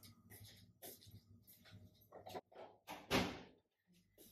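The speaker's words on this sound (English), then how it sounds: "let me shut the door." A door in a home kitchen is pushed shut, ending in one firm thud after some shuffling and handling noises nearby.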